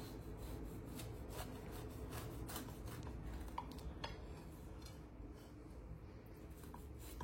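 A knife cuts through a soft, warm apple pie dusted with powdered sugar, giving steady close rubbing and scraping with light taps against the pan, no talk.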